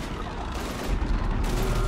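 Heavy gunfire from a Mass Effect 3 battle, a dense continuous roar of overlapping shots and blasts that holds loud and close for the whole stretch with no clear pauses.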